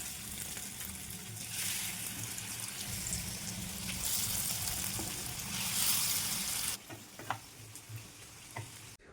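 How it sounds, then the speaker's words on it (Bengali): Chicken singara deep-frying in hot oil in a wok, a loud continuous bubbling sizzle that swells and then drops away abruptly, followed by a few soft ticks and pops, with no talk. "আমি এটা ফ্রাই করার জন্য দিয়ে দিলাম কড়াইয়ের মধ্যে"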